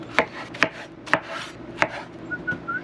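A knife chops through fresh pineapple on a cutting board, four sharp, evenly spaced thunks close up, followed by a faint brief squeak, with no talking.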